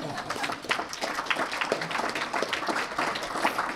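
A community luncheon forum audience applauds, a dense, even wash of clapping that holds steady throughout with no voices on top.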